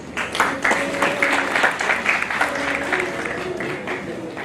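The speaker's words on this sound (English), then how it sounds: "A round of applause, please." An audience at a World Kidney Day event hall applauds, with a dense, steady burst of many hands clapping that holds briefly and then tapers off slightly.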